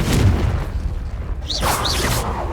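A Confringo spell explodes in the game Hogwarts Legacy with a deep, rumbling boom, followed by whooshing magical swishes over a dense background roar.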